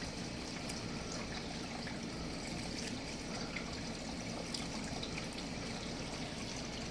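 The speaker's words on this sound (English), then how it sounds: "Water it right into the soil." Brewed tea poured from a brewer into potted plant soil, a steady soft trickle and dribble of liquid with faint background hiss, continuous and close throughout.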